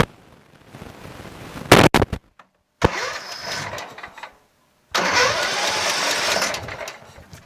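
A Tecumseh engine on a Craftsman 22-inch mulching push lawn mower is pulled with its recoil starter on choke, sputtering in short bursts with brief silences before catching and running with a steady rattling chug.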